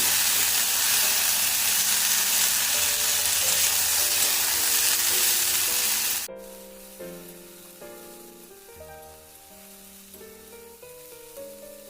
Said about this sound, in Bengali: গ্যাসের একটা মিডিয়াম করে আমি উচ্ছেগুলোকে ভালোভাবে ভেজে নিচ্ছি